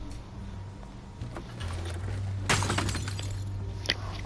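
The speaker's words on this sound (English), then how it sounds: "They just smashed Martha Tom." A sudden loud crash of shattering glass breaks out in a Batman Telltale Series game scene, followed by scattered tinkling debris and a later smaller smash over a low steady background hum.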